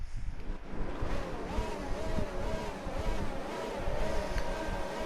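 Race cars starting the Austria Grand Prix at the Red Bull Ring in F1 2019, a loud layered engine roar with rising and falling whines from many cars at once, under a commentator's voice.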